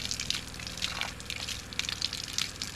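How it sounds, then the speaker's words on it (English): Water running steadily from the faucet of an off-grid propane shower heater, a continuous close hiss and splash of flowing water at household pressure with no break across the short stretch. "Turn on the faucet. The water flow is what turns on the flame and the power in the device."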